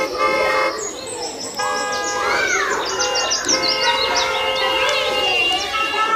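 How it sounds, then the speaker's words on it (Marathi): Birds chirping outside a school classroom, busy overlapping tweets and calls near and far, mixed with distant road traffic and a horn toot, with people talking in the background. "पक्ष्यांचे आवाज"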